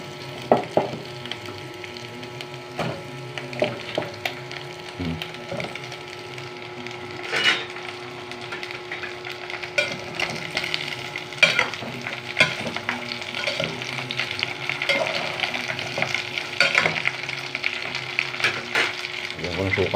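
Adobo bubbling and being stirred in a small pot, a steady sizzle and simmer with scattered scraping and clinking of the spoon against the pot, close and continuous.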